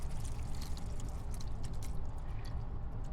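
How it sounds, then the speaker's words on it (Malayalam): Thick first coconut milk pours in a steady, soft liquid rush into a simmering Kerala olan, with low bubbling and gentle trickling throughout, close and continuous with no talk. "നമ്മുടെ തേങ്ങയുടെ 1ാം പാല് ഒഴിച്ചു കൊടുക്കാം"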